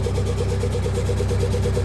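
A stuck 4x4 machine with its front wheel hanging, bogged down in an orchard, runs its engine at a steady, loud, close drone with a regular pulsing hum and no change in pitch across the short stretch.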